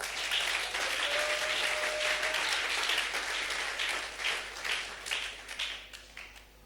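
A church congregation applauding, dense sustained clapping close by that thins toward the end, no voices.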